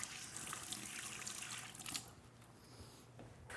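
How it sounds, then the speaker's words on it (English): Hands are rinsed under a running kitchen tap while stuffed tomatoes are being made, giving a faint, steady splashing rush that thins out partway through to quieter trickling. "Wash my hands off."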